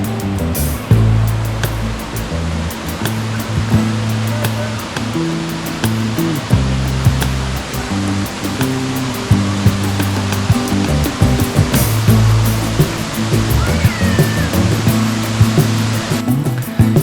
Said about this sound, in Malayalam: ഇവിടെ ഒഴുകുന്ന വെള്ളം കാണുമ്പോൾ എത്ര ഭംഗിയാണ്.